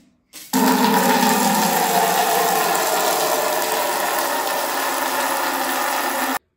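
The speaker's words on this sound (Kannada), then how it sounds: "ಮತ್ತೆ ಒಂದು ಸಾಧಾರಣ 5 ಲೀಟರ್ ಅಷ್ಟು ನೀರು ಹಾಕ್ತಾ ಇದ್ದೇನೆ" Water pouring steadily into a bucket, about five litres, a loud continuous rushing gush that starts abruptly and runs unbroken until it cuts off.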